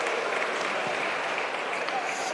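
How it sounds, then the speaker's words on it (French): Steady applause from the spectators at a cesta punta final in Saint-Jean-de-Luz, a dense continuous clatter of clapping that holds at an even level throughout, with a commentator's voice running over it. "il y a les applaudissements derrière qui accompagnent le plongeon"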